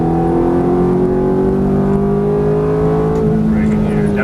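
Ferrari F430 on a racetrack under braking with a downshift, a steady, loud engine drone whose pitch slides gradually lower, then a brief blip and shift near the end, with the car's mechanical roar filling the whole stretch.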